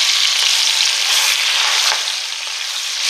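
A pork roast browns in a pan over high heat, giving a loud, dense, close sizzle that holds steady and eases slightly toward the end, with no voices.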